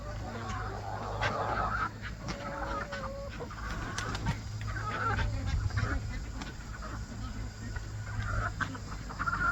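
A big flock of chickens in a barn clucks and calls intermittently. Scattered squawks and clucks rise over a low steady hum, some of them close, with occasional faint human voice.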